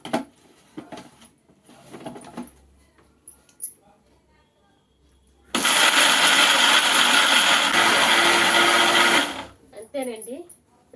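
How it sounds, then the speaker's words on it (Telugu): A mixer grinder whirs loudly for several seconds blending groundnut chutney, starting abruptly and cutting off, with someone talking briefly before and after. "ఇప్పుడు మిక్సీ చేసుకుందామండి."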